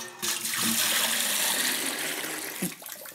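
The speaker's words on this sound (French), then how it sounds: "Je vais mettre un petit peu d'eau dans un seau." Tap water splashes steadily into a bucket, a loud continuous hissing pour lasting the whole stretch, close to the microphone, with brief knocks near the start and end.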